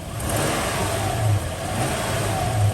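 A Toyota 2UZ-FE V8 in a 100 Series Land Cruiser or Lexus LX470 revs under the hood during heater hose coolant bleeding, the throttle blipped in two or three rising surges over a steady running drone, close and fairly loud.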